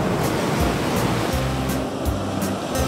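Surf breaks on a beach near Tel Aviv during a small storm, a loud, continuous roar of waves with rhythmic surges and no voices.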